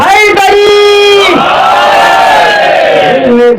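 A large crowd at a religious gathering roars back in unison to the Naara-e-Haidari slogan call, a loud, sustained collective shout swelling after the leader's call and holding for several seconds.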